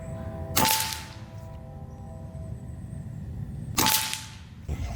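Two sharp shots from a Kral Arms Mortal PCP air rifle firing FX pellets, each a loud close crack with a brief ringing tail, a few seconds apart over faint outdoor background.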